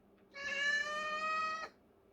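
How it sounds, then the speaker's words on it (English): A cat lets out one loud, drawn-out meow lasting about a second and a half, close by and on its own with no talking. "I'm being yelled at by the cat"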